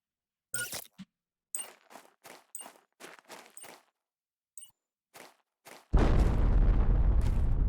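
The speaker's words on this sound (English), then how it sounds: "I was hoping for a bit of a bigger explosion, but I'll take that." Explosives blow up in the video game Planet Crafter, heard as a string of sharp, separate blasts spaced irregularly and followed by a sustained loud roar of rumbling debris.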